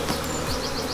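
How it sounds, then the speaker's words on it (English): Honey bees buzz steadily and close during the transfer of a nucleus colony into a full-size beehive, a dense continuous hum with individual bees droning past. "Lovely quiet bees full of brood."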